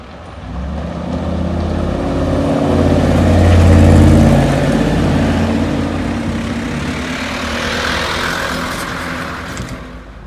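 Mercedes G500 6x6 with six big wheels driving over rough roads, a loud steady engine drone with a deep low rumble and broad road and cabin noise that swells and eases throughout.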